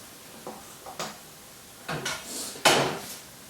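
A saucepan of thick, clotted flour-and-butter paste for a chicken and leek bake is lifted off the hob, giving a few sharp metallic clunks and scrapes of varying loudness, close and alone in a quiet kitchen.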